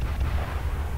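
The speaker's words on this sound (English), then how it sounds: "Fire missiles." Missiles launching from a mech in the video game MWLL, a brief loud low rumbling roar with a dense burst of firing, close and continuous for about a second.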